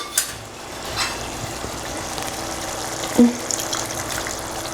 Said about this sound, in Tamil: இப்போ அடுத்ததான் தேவையான அளவுக்கு தண்ணி சேர்த்து நம்ம கலந்து ஊற்றிடலாம்